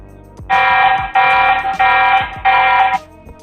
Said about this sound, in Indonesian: untuk menghidupkan alarm ini itu kalau misalnya ada pergerakan seperti ini